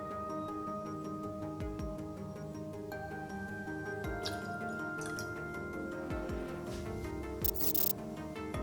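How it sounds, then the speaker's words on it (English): One ounce of simple syrup pours into a cocktail shaker as a soft, close trickle with scattered drips, set against steady background tones and a few faint clicks. "Add 1 ounce of simple syrup."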